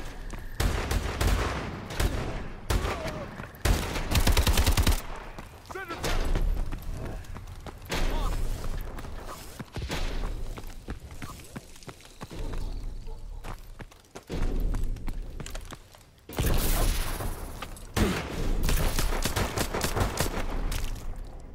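Dense video-game gunfire from a Call of Duty: Advanced Warfare team deathmatch: loud bursts of rapid automatic shots and heavier blasts in overlapping waves, with brief lulls, mixed with game voices and player chatter.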